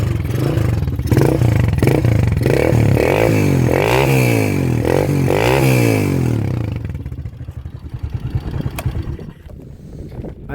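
A freshly repaired motorcycle engine revs loudly and close in rhythmic surges, then drops to a rough, sputtering idle as it winds down.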